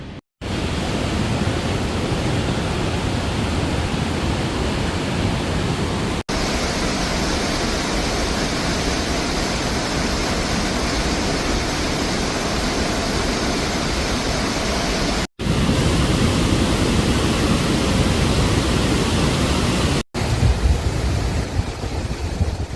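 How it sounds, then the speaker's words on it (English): A waterfall in Brazil gives off a loud, constant rushing roar that fills every moment, broken only by a few sharp cuts, with no one speaking. "Enjoying the waterfall."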